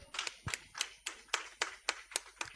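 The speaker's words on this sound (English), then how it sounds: "let's clap for this club" Clapping at a Rotary presidential installation ceremony, heard as a sparse, close, regular beat of about ten sharp claps spaced roughly a quarter second apart.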